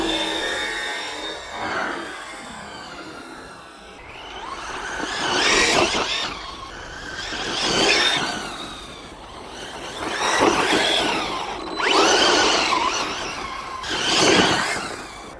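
FTX RC truck driving through long grass, its electric motor whining in repeated loud bursts of acceleration roughly every two seconds, with quieter lulls between runs.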